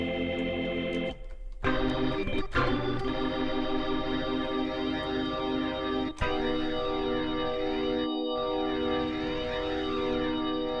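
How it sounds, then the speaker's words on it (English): An organ app on an iPad plays a sustained chord with a gritty, distorted tone, shifting steadily between held notes with a swirling, modulated quality. "It's got some distortion on it as well."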